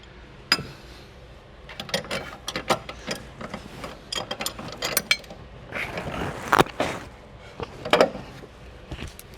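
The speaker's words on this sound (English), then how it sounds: "I'm going to remove the nut off the upper sway bar mount here" A ratchet wrench backs the nut off the upper sway bar mount of a Dodge Charger during a coil-over install, producing irregular bursts of sharp mechanical clicking with short pauses between pulls.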